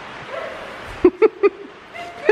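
A dog on a farm gives three quick, close, loud yips in a row after soft whimpering, with another whine starting at the end.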